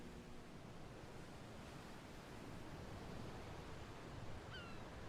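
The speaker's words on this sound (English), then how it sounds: "the sound of the waves is there" Ocean waves in the video game A Plague Tale: Requiem wash as a steady, soft broadband surf hiss that stays constant throughout, with no music and a faint high chirp near the end.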